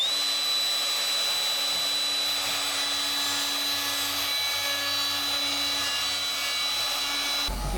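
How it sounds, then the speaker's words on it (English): A router on a homemade track saw attachment, used for building an Isuzu Dmax truck camper, roars in a continuous high whine while trimming an edge, loud and close, then cuts off abruptly near the end. "Also made an attachment for the router, so I can use that on the track saw as well"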